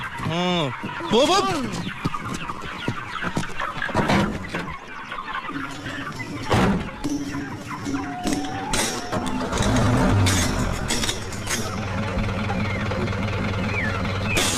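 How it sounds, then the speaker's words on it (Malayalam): Chickens cluck and squawk continuously amid a busy, noisy scene, with voices talking over the birds at times. "ഇതിൽ കോഴി അല്ലാതെ വേറെ ഒന്നുമില്ല സാർ"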